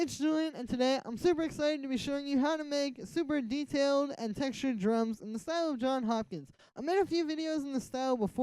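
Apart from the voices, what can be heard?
No everyday noises stand out.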